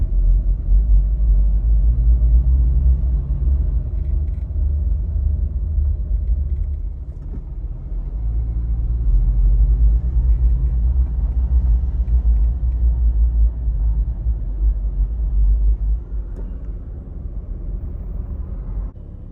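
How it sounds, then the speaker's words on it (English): A 30-year-old 80 Series Land Cruiser rolls along to a parking spot, its engine a steady low rumble heard close up, easing briefly midway before picking back up, with no voices. "let's park this thing now"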